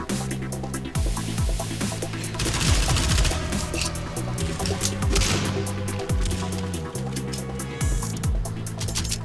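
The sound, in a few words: weapon gunfire sounds in video game Battalion 1944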